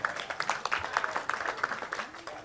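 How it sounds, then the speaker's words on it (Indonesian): A seated audience at a talk by Cak Nun gives brief applause, a crowd of hands clapping at a quick uneven rate, moderately loud and fading slightly toward the end. "Tepuk tangan untuk Sabrang ya."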